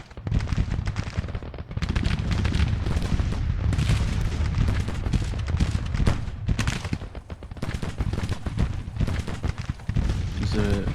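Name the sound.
Civil War artillery guns firing in the video game Grand Tactician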